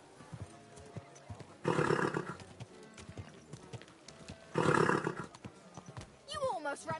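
Horse hooves clop along with two loud neighing bursts in the game Kingdom Come: Deliverance II, plus scattered game sounds and a brief whistle-like warble near the end.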